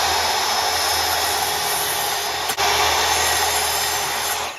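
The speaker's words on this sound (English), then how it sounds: "So I'm gonna take it over to the miter saw and let's get this thing finished up." A miter saw cuts the end off a painted wooden baseball bat, making a loud, steady high-pitched whine close by that dips briefly as the blade bites through, with no talk.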